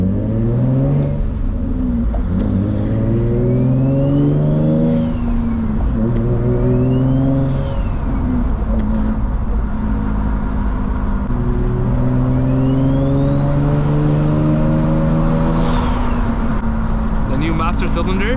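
A 500 HP Infiniti G35 coupe drives steadily with a deep, loud exhaust drone, revving through rising pitch sweeps as it accelerates and shifts, heard from inside over a constant road rumble.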